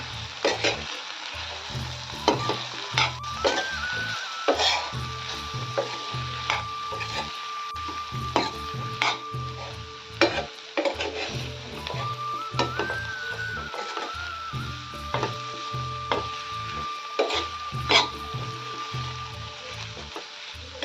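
Spicy potato and spinach curry being stirred in a pan, giving a steady frying hiss with frequent scraping and tapping strokes of a spoon, and faint electronic tones sounding twice in the background.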